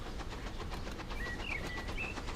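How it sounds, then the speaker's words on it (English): A train rolling past in the video game Transport Fever 2, a faint steady rumble with rhythmic clicking of wheels and a few thin squeals over it, no voices. "Here comes one of the trains from Bracknell."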